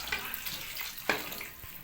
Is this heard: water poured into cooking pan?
yes